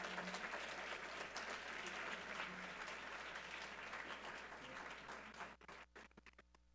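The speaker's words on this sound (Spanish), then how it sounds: "Demos un fuerte aplauso a Saúl," A conference audience at Negomarket 2018 applauds a speaker named Saúl before a talk on supply-chain risk and loss prevention. The dense, steady clapping fills the room and then thins into a few scattered final claps.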